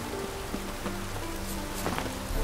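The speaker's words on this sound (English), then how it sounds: "Looks like rain." Steady rain hiss from the video game The Witcher 3, a continuous wash of patter near a graveyard and crypt, with faint droplet ticks and a low ambient hum underneath, growing slightly louder at the end.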